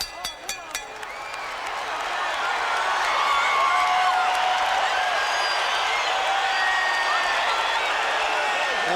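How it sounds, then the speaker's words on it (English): Boxing arena crowd at a heavyweight fight, a few sharp claps at first, then a loud sustained roar of cheering and applause from people standing, with a commentator talking over it. "the crowd, many of them standing here and cheering"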